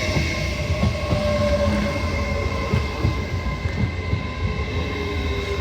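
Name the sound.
class 801 trains passing at Peterborough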